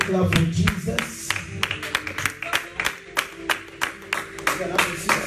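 A church congregation claps along in a steady rhythm of sharp, fairly close claps lasting several seconds, with music and voices going on underneath.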